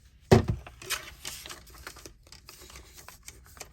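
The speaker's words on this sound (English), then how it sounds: "So I think I may just trim some off." Scissors trimming paper for faux library pockets in card making, a sharp crisp snip at the start followed by softer paper rustles and small handling clicks, close and fairly quiet.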